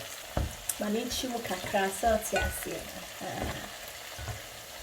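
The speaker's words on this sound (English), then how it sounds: "So spread your Dawadawa and then stir." Dawadawa is stirred into a sizzling plantain pancake mix for Ghanaian tatale. A steady frying hiss runs throughout with soft stirring scrapes, and a voice speaks briefly over it.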